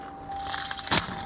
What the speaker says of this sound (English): Got the keys.